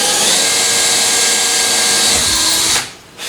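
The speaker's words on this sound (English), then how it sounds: "I'm drilling holes in the side of this truck," Power drill boring holes in the side of a truck, a loud continuous high whirring close by that runs for nearly three seconds before cutting off, then starts again briefly.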